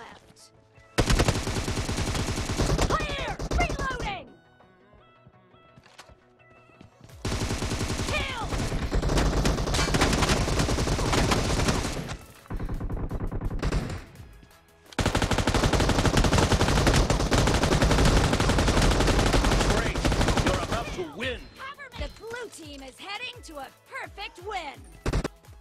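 Rapid automatic gunfire from the mobile game PUBG Mobile in team deathmatch, long dense bursts of shots separated by short pauses, loud and continuous, with game effects between the bursts.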